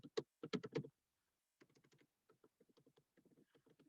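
Quick bursts of key taps on a computer keyboard, a loud flurry at first, then a pause and a longer run of softer, steady clicks, close and alone with no voice.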